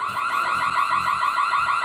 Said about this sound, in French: Sirène d'alarme se déclenche.